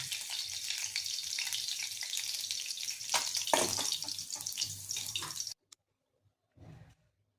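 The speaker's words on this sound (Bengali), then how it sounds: "ভালো করে ভেজে নিচ্ছি মাছটা" Small tangra fish fry in hot oil in a kadai, a loud, dense sizzle with a few bursts of spattering, then the frying cuts off abruptly into near silence broken by one brief scrape.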